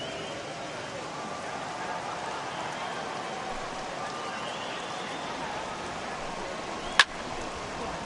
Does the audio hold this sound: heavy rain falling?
yes